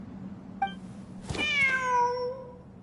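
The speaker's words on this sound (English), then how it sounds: "Wait, there it is! The cat!" A cat in the video game Genshin Impact, during a desert ruins exploration event, lets out a short chirp followed by a clear, drawn-out meow that trails off, close and alone over a low steady background hum.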